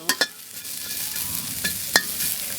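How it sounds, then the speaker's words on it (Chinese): Chili peppers dry-fried in a wok give a soft steady sizzle, broken by a few sharp spatula scrapes and clacks against the metal, close and without any talk. "先把这辣椒下锅爆一下啊，爆炒干炒嘛，干煸的，给它炒香"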